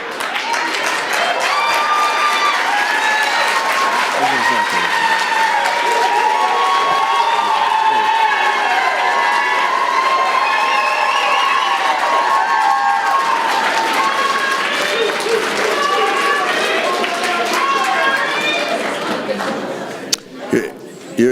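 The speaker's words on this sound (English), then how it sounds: "cheering and clapping is not allowed" A crowd at a city council meeting cheers and claps loudly for a long stretch, shouts and voices mixing over continuous applause before it cuts off abruptly.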